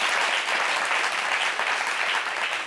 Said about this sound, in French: Applaudissez pour Ayane.